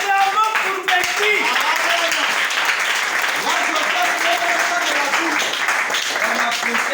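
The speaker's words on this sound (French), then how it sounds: "Acclamez pour Becky. Acclamons pour Becky." A church congregation applauds for Becky during a service, with continuous close clapping while someone talks over it and tonal sounds, probably music, run underneath.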